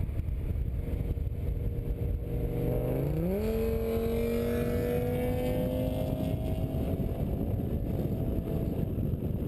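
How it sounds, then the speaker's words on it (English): Audi S6 C6 with a V10 engine flying past on a highway, its note rising sharply in pitch as it accelerates, then holding a loud steady drone under heavy wind noise. "Let's take a listen to a little highway flyby."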